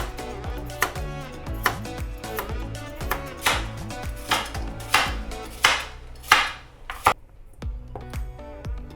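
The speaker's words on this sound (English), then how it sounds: "I'm gonna cut them into 1 centimeter rounds" A knife slices carrots into thick rounds on a cutting board, about a dozen crisp, close thunks in an uneven rhythm, each with a brief ring, and no voices.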